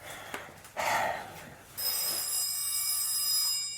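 A telephone bell rings after a couple of knocks and a brief rustle, a sustained loud metallic ring that carries on to the end, no talk.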